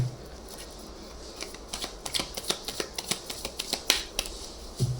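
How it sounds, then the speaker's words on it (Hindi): Tarot cards drawn and shuffled from a deck, a run of quick crisp snaps and flicks clustered in the middle, close and fairly quiet with no talking. "पहले हम आपके लिए कार्ड्स निकालें।"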